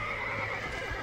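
A horse whinnies and snorts in the Red Dead Redemption video game, a loud close neigh over a steady game ambience with faint hoof clip-clop, no talk.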